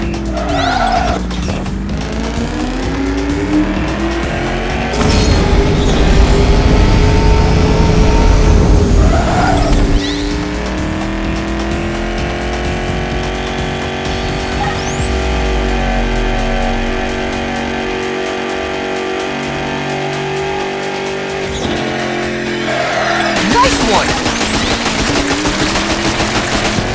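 Race cars roar at high revs with repeated tire squeals and skids in the Fast & Furious: Spy Racers Rise of SH1FT3R video game, loud and continuous, with engine pitch rising and falling over bursts of gunfire-like rattling.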